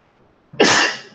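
A single loud, close sneeze bursts out abruptly after near silence during a casual team hangout call, with a sharp onset and a short breathy tail.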